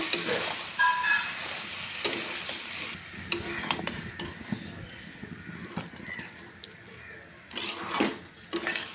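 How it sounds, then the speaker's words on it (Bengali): Mushrooms sauté with spices in a pan for mushroom curry, with irregular scraping stirs and clinks of a spoon against the pan over a low sizzle, close and moderately loud. "মশলার সাথে মাশরুমটাকে আরও কিছুক্ষণ কষিয়ে নেব"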